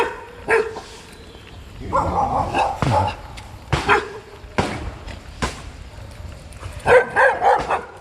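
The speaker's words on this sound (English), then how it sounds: "Wow, this place is like just full of dogs of all descriptions." Village dogs at the Temuan settlement of Bukit Lanjan in Petaling Jaya bark and yip in scattered bursts, some close and loud, others farther off, with a busy outdoor background.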